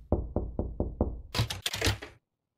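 Five firm, evenly spaced knocks strike the front door in the horror game Another Day, followed by a louder burst of heavier banging before sudden silence.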